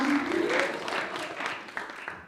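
Applause from an audience at a US Kenya Alumni Association Eastern Region launch event: a dense, steady patter of many hands clapping for a couple of seconds, with faint voices mixed in.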